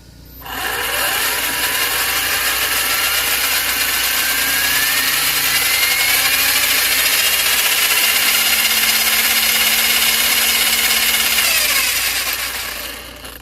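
A Hobao RC car's small nitro engine runs on a bench test at one-third throttle: a loud, steady high-pitched buzz that starts abruptly, holds for about twelve seconds with slight pitch swells, then cuts off, close by with no voices.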